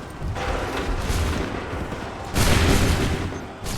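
Musket volley gunfire in the Assassin's Creed 3 video game, a dense roaring burst of massed shots followed by a second loud crackling volley, continuous and booming without speech.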